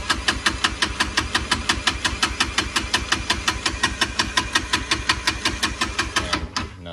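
Kawasaki Brute Force 300 ATV engine cranking and sputtering with the choke on after a carburetor problem, a steady rapid rhythmic chugging pulse held for several seconds up close before cutting off abruptly.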